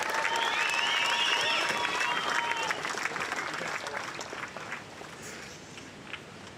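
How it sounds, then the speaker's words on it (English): Crowd applause and cheers for the surf event winner at a Bells Beach longboard contest, loud sustained clapping with whistles that gradually fades over several seconds while an announcer talks over it. "Let's hear a round of applause for our event winner,"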